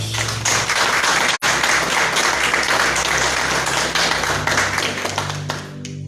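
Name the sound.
congregation applauding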